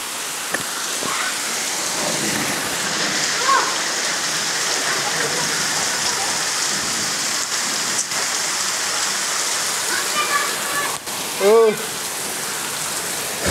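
Heavy rain pours steadily onto a flooded street, a dense, continuous hiss of drops on water and hard surfaces, with a few brief louder splashes near the end.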